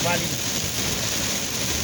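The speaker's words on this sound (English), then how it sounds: "And it's raining pretty hard, guys." Hard rain falls near a bridge over the Medina River during a storm, a loud, dense hiss mixed with wind buffeting the microphone, continuous across the short moment with no clear voices.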